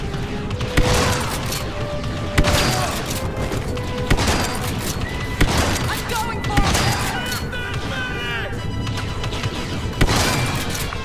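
Explosions and bombing in the Star Wars Battlefront II campaign on a moon crawling with Imperials, a dense, loud barrage of booms and crashing impacts, with voices talking over the rumbling chaos.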